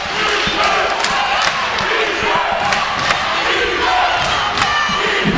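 A college basketball crowd in a Skyline semifinal between Yeshiva and Old Westbury chants loudly and steadily from the stands during play, with scattered thumps and shoe noise beneath.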